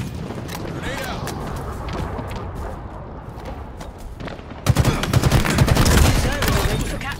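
Halo Infinite firefight on the Fragmentation map: distant rapid gunfire rattles for several seconds, then a loud grenade blast erupts, followed by dense, close bursts of automatic weapon fire and booming impacts.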